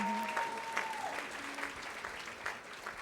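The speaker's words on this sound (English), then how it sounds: "can we please get a quick round of applause for Ben?" Applause from a union meeting audience for Ben, moderate and somewhat distant, with a brief tone and faint voices underneath during the first second.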